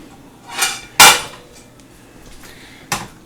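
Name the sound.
unruly pan being handled while cooking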